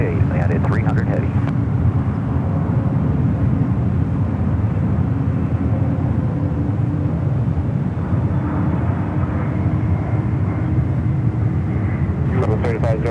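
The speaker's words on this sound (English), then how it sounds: "All right, the A380 directly over our head." An Airbus A380 passing directly overhead at San Francisco airport, a loud, steady low engine roar filling the whole stretch, with faint radio chatter at the start and end.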